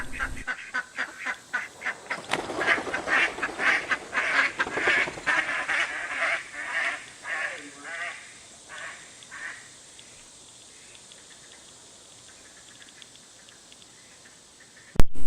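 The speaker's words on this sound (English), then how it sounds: "The ducks are here, are just about 6 months old, full-grown adults." Six-month-old adult ducks at a pond quack in a lively run of repeated calls that thin out and fade to quiet, followed by a brief sharp noise at the very end.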